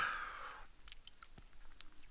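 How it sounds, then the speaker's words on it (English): Quiet chewing of food at a dinner meal, soft irregular crunches and mouth sounds close to the microphone after a brief louder noise at the start, with no talking. "I'm sorry again if you hear lots of chewing."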